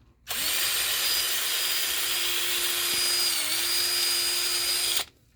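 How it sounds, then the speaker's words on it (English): A power drill bit, used sideways like a rotary cutting tool, bores and cuts through the wooden wall of a handmade lamp with a steady, loud, high whine that holds for nearly five seconds before stopping abruptly. "I'm using this drill bit like a roto zip"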